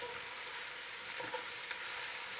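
Roughly chopped peppers fry in a goulash pot with browned meat, giving a steady, close hiss of sizzling oil throughout the short stretch, with no voices.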